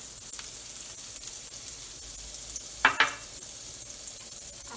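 Quinces frying in butter in a pan give a steady, soft sizzle throughout, broken by two quick utensil scrapes or taps close together near the middle.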